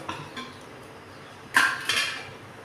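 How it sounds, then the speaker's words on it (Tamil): Two metallic clanks as a lid is set onto a pot of simmering bitter gourd tamarind curry, close by, after a short quiet lead-in. "மூடி போட்டு மூடிடலாம்"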